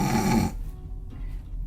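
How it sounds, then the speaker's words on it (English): A loud, rasping snore is heard as a sound effect in a children's story reading, followed by a quieter breathy exhale. "Dash snores as she dozes."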